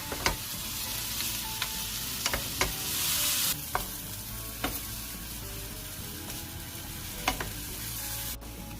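Meat frying in a pan with salt, pepper and crushed garlic, a continuous close sizzle broken by occasional sharp spatula scrapes and taps, with a louder hissing burst partway through.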